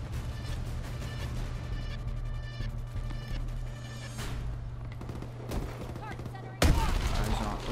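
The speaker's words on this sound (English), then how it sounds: "I knew they were gonna be launching grenades in there" Gunfire and grenade-launcher blasts in Call of Duty: Advanced Warfare, rapid bursts of shots over a constant low hum, ending in a sudden loud explosion near the close.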